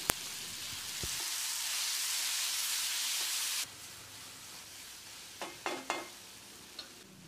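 Salted tomatoes sizzle loudly in a hot pan for tomato sambar, then the sizzle drops away and a few scraping stirs and clinks of a utensil follow.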